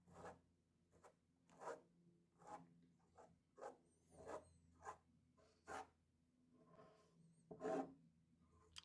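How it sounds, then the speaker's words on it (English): Palette knife scraping paint across a canvas, a series of about ten short, quiet rasping strokes at a slow, uneven rhythm in a quiet room. "See how I just scraped that paint away by accident?"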